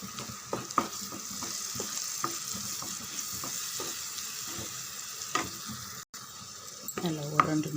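Ground tomato paste sautéing with masala in a pan for a brinjal gravy, a low steady sizzle with irregular spoon scrapes and clinks against the pan, close and quiet, ending in a louder stirring clatter.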